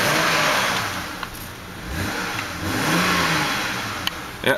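A 2007 BMW 328xi engine revs up and eases back in a couple of swelling pulls over a steady background hum, moderately loud and heard from close by, with no talking.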